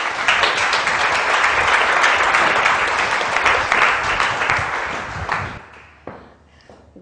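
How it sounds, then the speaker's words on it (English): A large audience applauds warmly to welcome an author at a literary event, a dense sustained wash of clapping for about six seconds before it thins out and stops. "Please make very welcome Sofie Laguna."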